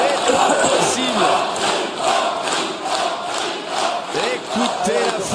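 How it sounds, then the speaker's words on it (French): A dense pétanque crowd at a France vs Thailand triplette match cheers and shouts continuously, a loud wall of many overlapping voices that swells and dips without a break. "Écoutez la foule."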